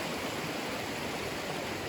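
Deep Creek in Great Smoky Mountains National Park rushes steadily along its rocky bed, a constant broadband wash of flowing water, close and even throughout with no voices.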